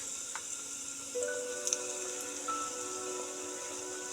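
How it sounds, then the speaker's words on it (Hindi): Ginger garlic paste frying in a pan for Dhaba-style aloo gobhi masala gives a steady, quiet, rain-like sizzle with faint crackles and no talking. "अभी हम अदरक लहसुन को अच्छे से भून लेंगे।"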